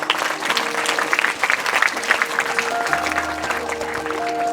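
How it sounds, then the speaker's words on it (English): A school audience at an Independence Day celebration claps for pre-primary children, a loud, sustained crackle of many hands with steady electronic hum tones running beneath. "Please give them a big round of applause."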